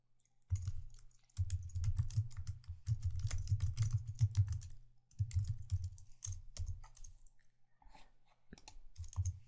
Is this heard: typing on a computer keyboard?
yes